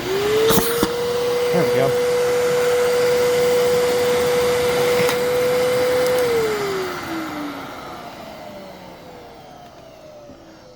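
A Fantom Fury Special Edition Plus upright vacuum cleaner, suffering from weak suction, switches on with a rising whine, holds a steady motor drone, then spins down and fades; a voice speaks briefly near the start.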